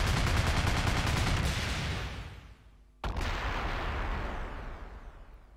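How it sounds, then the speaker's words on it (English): A ship blows up in the Freedom Planet video game: a loud sustained rumbling blast that fades out, then a second sharp explosion bursts in and roars on. "That's a good explosion."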